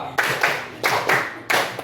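Hand clapping by a group playing an icebreaker counting game, crisp claps in paired bursts repeating in a steady rhythm, near and clear with no voices.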